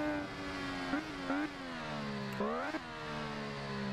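The three-cylinder engine of an MV Agusta Rivale 800 in a racing game screams at high revs, climbing through gears with short dips at each shift, steady and prominent with no talk.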